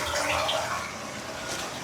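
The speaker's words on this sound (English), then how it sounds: "so you guys can see the water running there" Steady rushing of water pouring and splashing from a drain pipe, a continuous gush with no pauses, fairly close, during a basement sewage backup from a clogged 3-inch clean-out.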